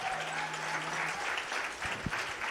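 An audience at a talk on the history of a movement applauds, a steady even wash of clapping throughout, with a brief low tone and a single thump near the end.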